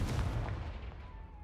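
In the video game Hogwarts Legacy, the Confringo spell goes off as a single booming explosion, loud at the start and rumbling away over about a second with a low tail.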